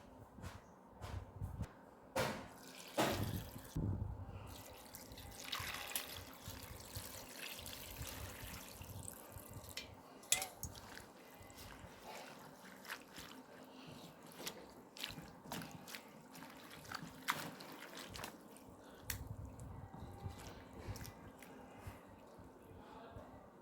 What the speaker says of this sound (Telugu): దీన్ని శుభ్రంగా కడుగుదాం మంచినీళ్ళతోనే కడిగితే చాలా బాగుంటుంది ఇసుక అంతా పోద్ది